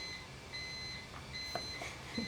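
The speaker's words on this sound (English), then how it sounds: "Oh, glad we have beeping." Faint, thin electronic beeps repeat at a steady interval over a quiet background hiss.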